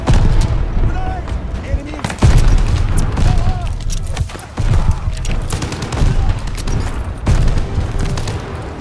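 Heavy gunfire and booming blasts fill a Call of Duty firefight, with loud, close bursts and repeated impacts through the whole stretch and shouting voices mixed in.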